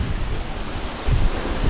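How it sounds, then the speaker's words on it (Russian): Strong wind buffets the microphone on a Black Sea beach, a loud low rumbling roar that swells and eases, with surf blending into the gusts. "Такой ветер."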